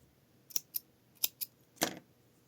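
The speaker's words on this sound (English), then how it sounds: "cutting our yarn" Scissors snip crochet yarn at the end of a corner-to-corner sample, four quick, close blade clicks followed by one longer, louder cut, with no voices.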